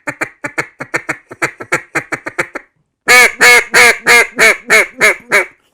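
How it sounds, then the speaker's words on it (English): A Camo Max ABS mid-range duck call blown close up: a rapid run of short raspy quacks, a brief pause, then a slower series of louder, drawn-out raspy quacks. "It sounds like this."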